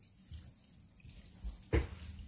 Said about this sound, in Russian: Да еще и бак заполняет вот этот 80-литровый.